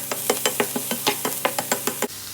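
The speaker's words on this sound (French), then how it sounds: "j'ai mis un petit peu d'huile à chauffer dans ma poêle. Je fais revenir mes oignons." Onions and mushrooms fry in hot oil in a pan, a steady sizzle broken by regular scraping stirs roughly every quarter second, close and moderately loud, ending with a final scrape.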